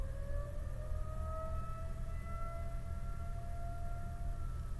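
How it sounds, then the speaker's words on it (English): A distant siren wails with a long, slowly drifting tone over a low background rumble, faint but sustained throughout. "they've never had sirens go off like that."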